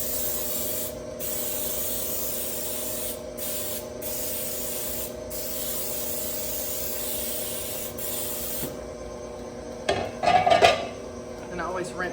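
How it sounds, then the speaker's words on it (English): Baker's Joy flour baking spray hisses from an aerosol can over a kitchen sink in one long steady burst lasting several seconds, close and loud, followed by a few clattering kitchen knocks. "So they have this Baker's Joy spray that's got the flour in it"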